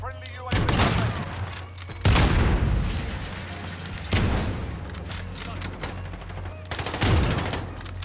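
Four loud, booming blasts from a 725 shotgun in Modern Warfare fire a couple of seconds apart. Each blast trails off into game noise before the next, and voices can be heard faintly in the background.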